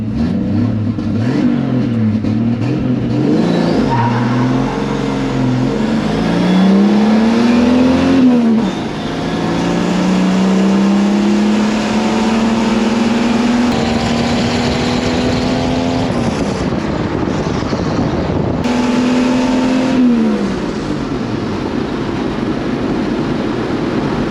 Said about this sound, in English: I think I had to slip the clutch a bit on the way out to try to keep it in the power band